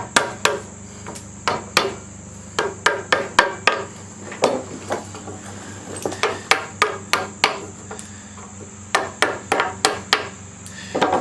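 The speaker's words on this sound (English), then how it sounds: "We're just going to chisel the rest of it out." A wood chisel hammered to smooth out a slot in sawmill lumber for a shelf storage rack, struck in a steady series of sharp, close taps, grouped in quick runs with short pauses, no talking.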